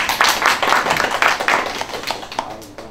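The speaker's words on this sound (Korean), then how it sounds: "다시 한번 박수 한번 부탁드립니다" Applause from a seminar audience on the history of the cajon, a quick burst of close, crisp hand claps that thins out and fades over a few seconds.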